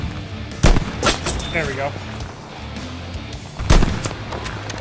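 Battlefield 5 sniper rifle shots: two heavy, booming single shots spaced a few seconds apart, each with a rolling tail, while a player talks briefly in between over low game ambience.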